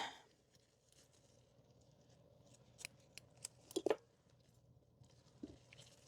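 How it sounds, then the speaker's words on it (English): A few crisp snips of scissors cutting, quiet and close, clustered in the middle of a hushed background. "Get my scissors."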